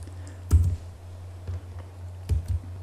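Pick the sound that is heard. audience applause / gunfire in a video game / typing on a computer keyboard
typing on a computer keyboard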